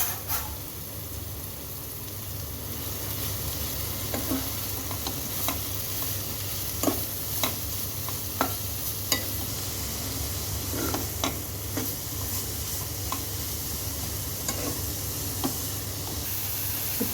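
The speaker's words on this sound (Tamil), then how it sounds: "இது நம்ம 1 by 1 வெஜிடபிள் ஆட் பண்ணி தான் ஃப்ரை பண்ணணும்" Carrots with masala frying in a pan and being stirred, a steady close sizzle with periodic scraping clicks from the spoon, and no talking.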